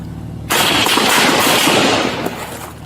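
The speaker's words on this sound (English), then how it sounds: "Shots fired." Gunshots fired at a police car erupt suddenly as a loud, rapid volley of cracks lasting about a second and a half, then ring off and fade.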